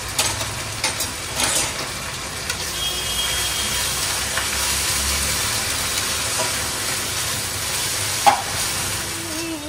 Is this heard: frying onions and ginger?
yes